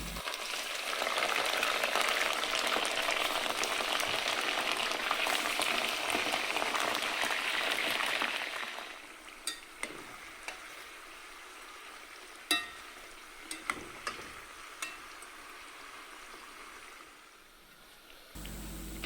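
Roughly a kilogram of meat searing in a pot for plov, a loud, dense sizzle that fills the first half, then settles to a quieter frying hiss punctuated by scattered clinks and stirring knocks.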